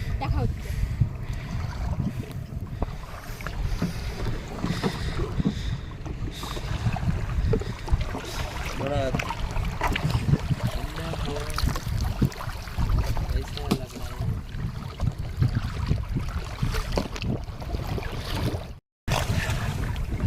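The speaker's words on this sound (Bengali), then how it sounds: "জোয়ারও লেগে গেছে আর হাওয়াটাও এদিক থেকে প্রচুর দিচ্ছে" Strong wind and choppy waves at high tide buffet a small fishing boat on the Matla River in the Sundarbans, a continuous rushing, sloshing roar under someone talking.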